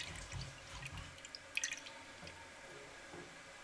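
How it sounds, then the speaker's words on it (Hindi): Tamarind water poured into a dish of spicy chutney gives a few soft, close drips and a brief splash, faint against quiet room noise. "इमली का पानी अब इसमें हम इसलिए ऐड कर रहे हैं, इसका अच्छा जायका बनाने के लिए।"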